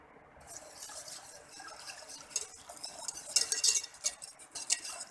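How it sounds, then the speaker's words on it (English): Whisking white sauce in an aluminium pan, a steady scraping, swishing stir with light metallic clinks that grows busier and louder toward the end, close up with no talk. "now you need to mix it gently, and if required you can use whisk also"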